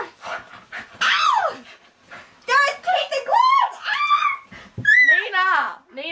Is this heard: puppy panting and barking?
yes